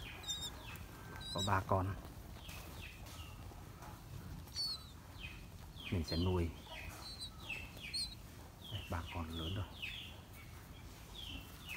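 Brown myna chicks taken from a nest in a coconut tree give harsh, scratchy chirps and squawks in short bursts close by, while someone talks over them.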